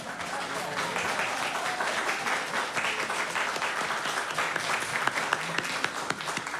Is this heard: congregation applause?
yes